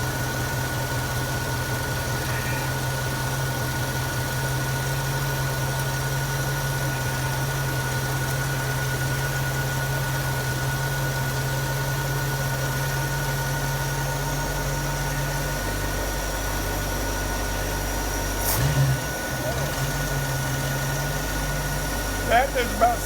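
A 1973 Ford Mustang with a 302 V8 and two-barrel 2100 carburetor idles steadily at about 750 RPM, a continuous low rumble heard up close with a brief clatter near the end.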